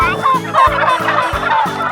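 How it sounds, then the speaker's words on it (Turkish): Turkeys gobbling on a turkey farm, close and loud, a rapid repeated burst of gobbles in quick pulses with a faint voice in the background. "Bir sürü hindi gördük biz."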